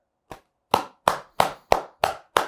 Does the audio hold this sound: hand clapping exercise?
yes